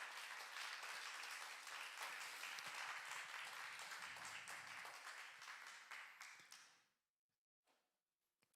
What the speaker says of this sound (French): j'aimerais entendre un grand applaudissement pour celui qui libère ce matin